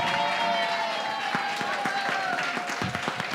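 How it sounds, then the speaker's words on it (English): Audience applause for a Democracy Burlesque comedy-night act, a steady wash of clapping with scattered sharper hand claps and faint crowd noise throughout. "another round of applause for Democracy Burlesque"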